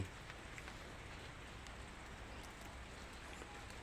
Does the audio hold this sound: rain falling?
yes